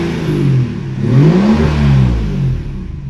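A BMW E36 fitted with an M57 diesel engine runs unevenly, rising and falling in loud, close surges that sound lumpy rather than smooth, with a whirring undertone and no voices.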